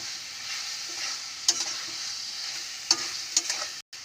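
Potatoes stirred into spices in a pan, a soft continuous sizzle broken by a few distinct scraping strokes of the spoon, close and unaccompanied by talk.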